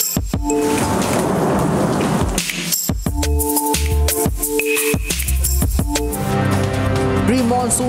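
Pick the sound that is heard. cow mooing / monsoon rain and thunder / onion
monsoon rain and thunder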